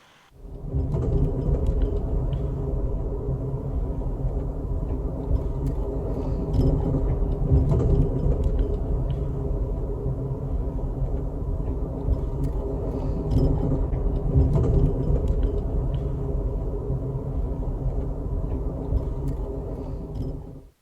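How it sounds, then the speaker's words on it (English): A long, steady low rumble of a passing freight train on a Colorado canyon line, loud and continuous throughout with a heavy rolling drone and no voices. "there's a passing siding, where we meet one of the half-dozen or so freight trains that runs on this line every day."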